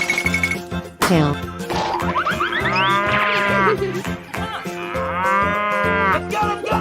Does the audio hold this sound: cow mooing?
yes